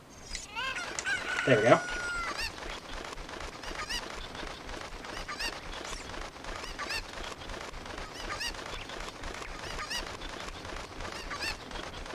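A chicken in a Zelda video game squawks loudly near the start when picked up, then continuous game sounds carry on beneath it; someone speaks briefly.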